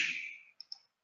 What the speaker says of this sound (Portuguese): E vou clicar aqui em Create.